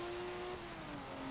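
A TVR Sagaris inline-six revving toward 8,000 RPM in Forza Motorsport 7, a steady sustained engine tone that climbs slightly, moderately loud and close, with no talk over it.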